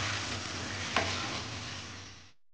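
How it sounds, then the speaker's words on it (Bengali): Marinated chicken being stirred into a spinach gravy in a pan over high flame, a steady close sizzle with one brief scrape of the spoon partway through. "এবার আস্তে আস্তে গ্রেভিটার সঙ্গে মাংসটা মেশাতে থাকবো।"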